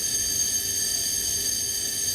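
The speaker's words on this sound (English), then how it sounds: "That's a fire alarm." A building fire alarm going off, a steady high-pitched electronic tone holding constant for the whole stretch at moderate loudness, with no one talking over it.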